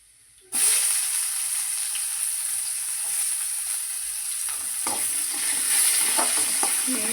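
Onion, grated coconut and tomato sizzle steadily in a hot pan after a sudden start, with soft scraping of a spoon stirring through the mix, close and continuous.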